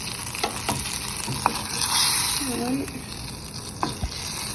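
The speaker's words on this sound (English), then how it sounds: "I'm going to stir that butter just a little bit." Butter melting in a pan for homemade mac and cheese sizzles and fries steadily while a spoon stirs it, with a few soft scrapes and taps against the pan and no talking.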